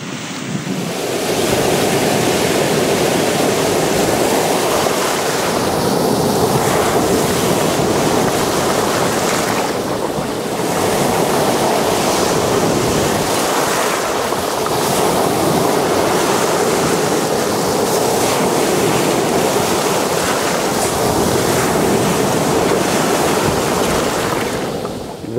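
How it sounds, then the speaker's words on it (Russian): Waves roll onto the shore of Lake Baikal in a steady, loud surge, with wind buffeting the microphone throughout and no voices. "На Байкале сегодня волна."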